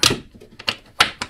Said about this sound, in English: there's another latch on the inside here, which holds it shut